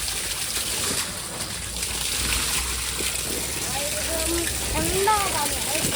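Water draining out of a home swimming pool, a continuous gushing and splashing flow under a voice talking, with faint higher voices toward the end.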